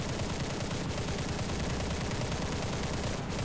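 Machine guns firing from bomber gunner positions in War Thunder gameplay of a premium H8K3, a dense, continuous rattling burst of gunfire that stays loud and unbroken from start to finish.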